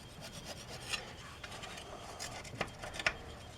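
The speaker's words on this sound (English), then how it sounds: "we have a little 3M pad on our drill that we'll use just to clean up a little better" A drill fitted with a 3M abrasive pad scrubs corrosion off an aluminum gasket surface during a 2007-2014 Silverado water pump replacement, giving a soft, steady rasping rub with a few brief louder scuffs near the end.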